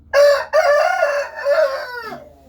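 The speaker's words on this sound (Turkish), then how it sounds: "Horozların da dengesi bozuldu." A rooster lets out one loud, close crow: a harmonic call held for about two seconds that trails off at the end, with no talking.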